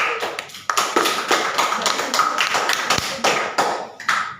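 A classroom of students applauding after a chemistry presentation, a burst of quick, uneven claps with sharp taps, close and lively, with voices mixed in.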